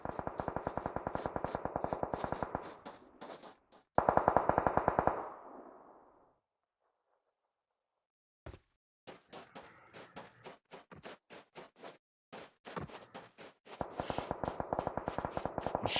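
Rapid gunfire bursts from a PUBG Mobile scrim match, loud, dense automatic strings at the start and end with scattered single shots and short bursts in between, separated by a near-silent gap.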